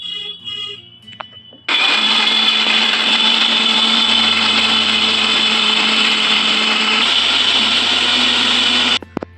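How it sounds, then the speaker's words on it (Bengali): A kitchen mixer grinder grinds garlic, tomato, cashew and raisin spices into paste, a loud, steady motor whir starting abruptly, holding strong for about seven seconds, then cutting off. "এগুলো আমি মিক্সিতে বেটে নেব"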